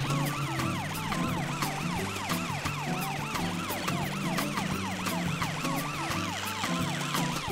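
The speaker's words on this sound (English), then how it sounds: "Amber the ambulance must have seen what happened" A wailing cartoon ambulance siren sweeps up and down repeatedly over a rumbling vehicle, steady and fairly close, with no talking.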